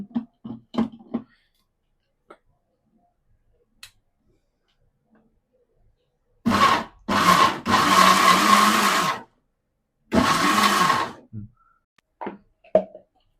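Kitchen mixer grinder whirring in short loud bursts as it grinds a garlic chutney mixture, two main runs separated by a pause, with scattered clicks and taps of handling before and after.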